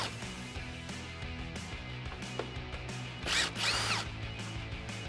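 Power tool running on the 10mm bolts holding the top of the grille on a 2012-2015 Toyota Tacoma, a steady close whir with two brighter high-pitched bursts near the end.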